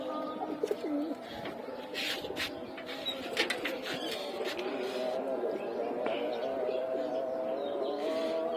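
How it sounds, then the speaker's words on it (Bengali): Pigeons cooing in soft repeated low calls, fairly close, with scattered chirps and fluttery noises around a pigeon loft. "কবুতর এক এক করে সব চলে আসতেছে।"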